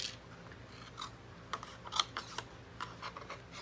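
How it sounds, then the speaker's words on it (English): Scissors snip through cardboard being cut into a strip to serve as a width guide for a ribbon bow, giving a few short, soft, close crisp cuts over quiet room tone with no talking. "however wide I cut this cardboard is how wide my bow is going to be"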